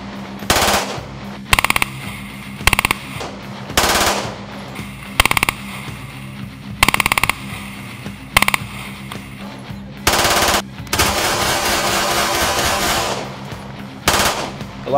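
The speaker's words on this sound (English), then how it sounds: "The next gun I shot was a Glock 17 that was converted to full-auto." A Glock 17 pistol converted to full-auto fires at a Knob Creek machine gun shoot in a series of loud, sharp bursts. Most are short, with one long sustained burst near the end.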